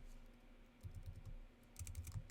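Computer keyboard typing during PHP coding, quiet clusters of key clicks in two short bursts with a pause between, alone with no talk.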